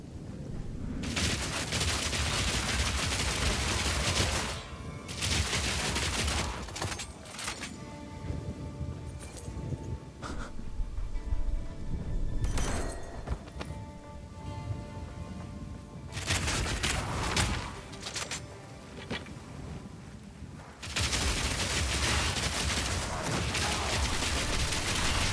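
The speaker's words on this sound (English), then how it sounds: "It's a submachine gun." A submachine gun in Path of Exile 2 fires long, dense bursts of rapid shots, loud and close, broken by short pauses, with clinking effects and game noise underneath.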